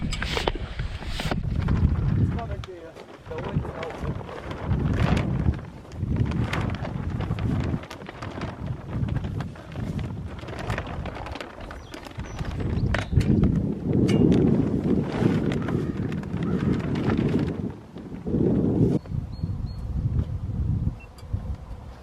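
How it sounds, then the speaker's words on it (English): Wind gusting around 12 mph buffets an outdoor greenhouse build while end wall plastic is installed, a rough, rumbling roar that surges and eases in waves, loud and close against the microphone. "The wind's starting to pick up a little bit right now"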